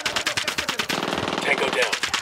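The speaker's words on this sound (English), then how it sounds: "Spotted one with submachine. Stay out of sight, people. Plant the bugs and diddy now. Don't even cast a shadow. Opening fire." Submachine gun fire in Tom Clancy's Ghost Recon Wildlands, a tactical shooter game, rattles out in loud, rapid stuttering bursts that run almost without pause through the whole stretch.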